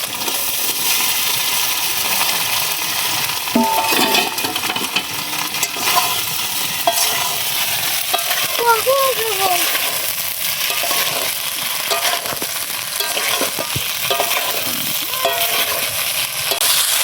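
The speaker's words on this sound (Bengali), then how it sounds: "এবার ভেজে রাখা আলু আর ফুলকপিটা দিয়ে দিই" Fried potato and cauliflower pieces sizzle and sputter with spice paste in a hot pan for a rui fish dish, a constant loud frying hiss broken by scraping stirs and small clinks, close up with no talk.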